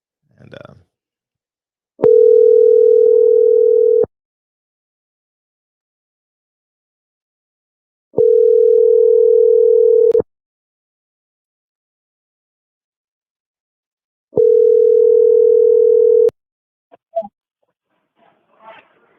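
A phone ringback tone repeats three times while a call is placed, each steady ring lasting about two seconds with roughly four seconds of silence between, clear and alone, followed by faint brief noises at the end.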